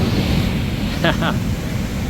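Big, intense surf breaks on the shore at Dreamland Beach, a constant loud wash and roar of ocean waves. A brief voice cuts in near the middle.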